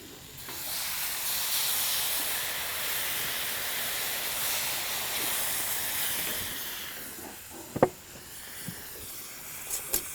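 Stock poured into a hot paella pan holding rabbit, seafood, garlic and jalapeno sizzles in a loud, steady hiss that gradually softens, with a few sharp clinks and taps near the end.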